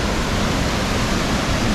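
A powerful waterfall roars as a dense, unbroken wash of white noise, loud and close, with no voices over it.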